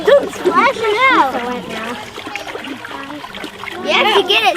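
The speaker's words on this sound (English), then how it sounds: "Nico, don't splash it out" A child splashes and stirs water in a bucket, with bursts of splashing and trickling around a child's chatter and an adult's voice close by.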